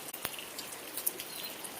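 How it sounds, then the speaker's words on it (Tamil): Steady rain falls during a Kerala monsoon, a faint constant hiss with occasional light drops ticking nearby, and no voices. "ஒரே மழை"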